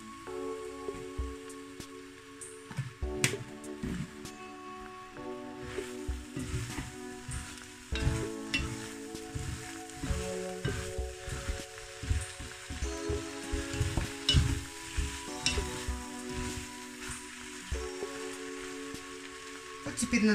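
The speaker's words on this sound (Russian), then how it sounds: "Теперь надо периодически помешивать капусту, чтобы она не поджарилась, не подгорела снизу." Sauerkraut fries in oil in a pan while being stirred, a soft, continuous sizzle with intermittent scraping and clatter from the stirring, under a steady background hum.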